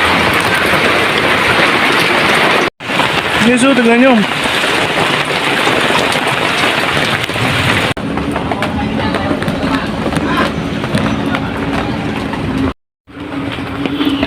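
Steady, heavy rain roaring continuously on a small roadside shop with a leaking roof, with a brief voice speaking partway through and a short dropout near the end.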